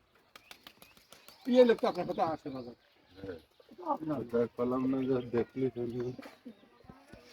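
Pigeons coo at a pigeon farm in short, low, throaty bursts, close by, mixed with voices talking. Quiet pauses separate the bursts.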